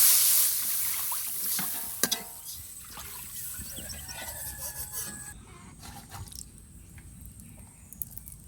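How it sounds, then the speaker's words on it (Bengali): Water is poured into fried spices (cumin, cinnamon, cardamom, cloves) in a pan, a bright hiss and splash that settles into a fainter bubbling sizzle with occasional clinks, fairly quiet. "মশলাটা কষিয়ে নিয়েছি এবারে জলটা দিয়ে দেবো"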